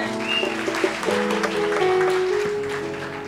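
Congregation at a church service applauding, a short burst of mixed clapping heard close and fairly loud.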